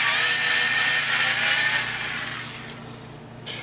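A Skil 4V cordless electric screwdriver grinds loudly as it drives a 1/4 inch bit into wood, then fades and cuts off near the end once it bottoms out.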